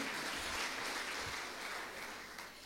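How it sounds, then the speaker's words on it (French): An audience applauds a student called up at a ceremony, dense steady clapping from a crowd that holds strong and then slowly thins toward the end, with no voices over it. "Qu'il s'amène sous vos applaudissements, s'il vous plaît."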